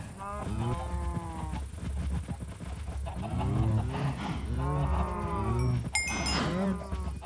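Cows in a Jurassic-themed Minecraft game moo several times in a row, a series of deep, drawn-out calls close by, each swelling and falling, with light game ambience and a brief higher blip near the end.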